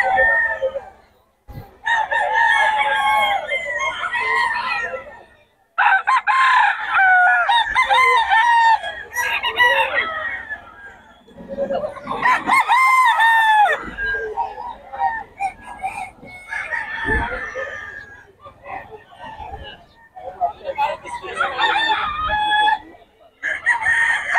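A stag rooster at a gamefowl seller's yard crows repeatedly, several loud, close cock-a-doodle-doo calls separated by short pauses, with occasional clucks and faint background voices.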